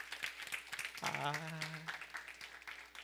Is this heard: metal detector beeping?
no